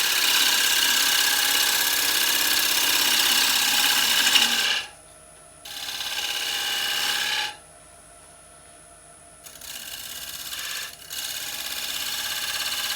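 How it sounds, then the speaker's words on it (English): A wood lathe spins while a gouge makes a push cut with the bevel rubbing, a loud continuous rasping hiss that drops out and resumes several times, leaving only a low motor hum in the gaps. "we'll do a push cut this time just to do a bit more shaping"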